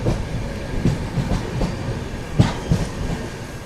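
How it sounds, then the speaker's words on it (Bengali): Train arriving at Kishanganj station in the early morning on a Kolkata to Darjeeling journey, steady rumbling roll of carriages with rhythmic wheel clacks over rail joints, loud and close, with no talk. "আমাদের ট্রেন চলে এলে এবারে কিষানগঞ্জ"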